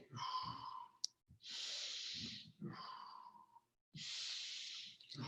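Rhythmic deep breathing from one person during a guided exercise: a series of loud, close inhales and exhales, each a long rushing breath separated by brief gaps, with no talking.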